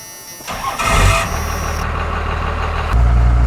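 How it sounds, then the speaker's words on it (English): First-generation Cummins truck engine with a straight pipe on the factory exhaust cranks and catches with a deep surge, then settles into a loud, rumbling idle that swells again near the end. "the previous owner actually put a straight pipe just on the factory exhaust on this thing. So here it's got a little more grumble than stock"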